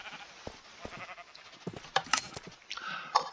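Sheep in the Minecraft video game bleat in short scattered calls, a few clicks and clatters mixed in, fairly quiet with no talk.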